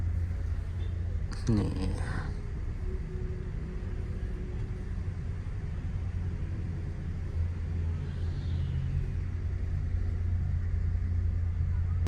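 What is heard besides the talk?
triple-decker sleeper bus engine pulling away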